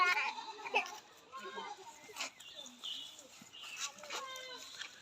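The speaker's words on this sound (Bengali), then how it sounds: "এই যে এখানে দেখছেন খাসি পাটি সবগুলোই আমার কাছে ছাগল আছে।" Goats bleat at a farm keeping Sirohi and other breeds, several short, fairly close cries scattered across the moment amid light background chatter.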